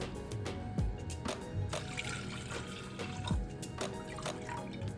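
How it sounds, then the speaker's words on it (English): Quiet liquid sounds with small splashes and drips as coconut water is poured into a vessel, with a few soft clunks in between. "Then pour the coconut water measuring 2 cups."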